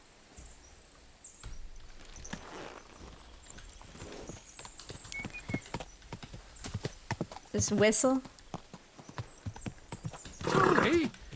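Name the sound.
horse hooves and neighing in the video game Kingdom Come: Deliverance II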